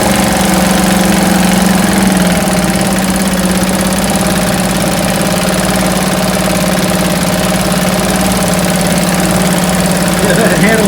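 A 1971 Johnson Mate 2 hp outboard motor idles with a steady, loud, buzzing putter, running unbroken throughout after a carb clean for a stall at wide open throttle.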